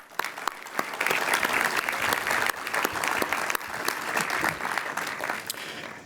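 Crowd applause at an elementary school ribbon cutting, building quickly into full clapping with crisp individual claps audible, sustained and fairly close for several seconds.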